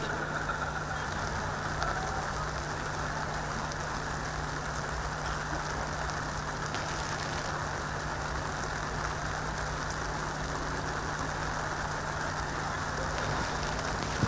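Steady, dense rain hissing across an outdoor driverless race car event, a constant even wash with a low hum underneath and no pauses throughout.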